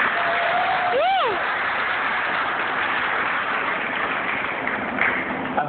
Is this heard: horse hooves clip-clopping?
no